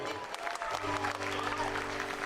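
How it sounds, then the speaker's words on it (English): Audience applause at the Drums of the Pacific luau show at the Hyatt Regency Maui in Lahaina, Hawaii. Dense, steady clapping fills the whole clip with a faint crowd murmur beneath it. "Ladies and gentlemen, give them a round of applause."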